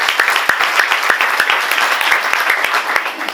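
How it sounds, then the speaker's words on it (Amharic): A church congregation claps together in worship, a dense continuous patter of many hands sustained steadily throughout, loud and close with no break. "አጨብጭቡ ለጌታ።"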